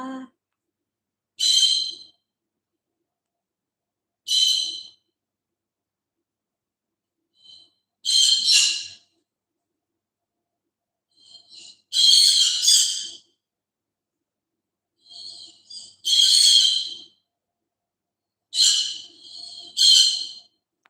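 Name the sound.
pet bird calling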